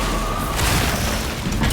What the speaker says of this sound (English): Fragmentation grenade out!